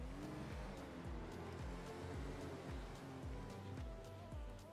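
Steady rumble of road traffic outside, engines droning and tires hissing continuously, with no voices.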